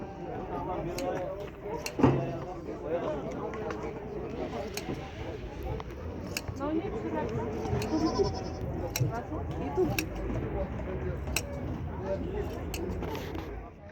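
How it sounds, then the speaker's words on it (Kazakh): Goats bleat repeatedly at a busy livestock market in Kyzylorda, their calls rising over crowd murmur and people talking nearby. "Ешкілер."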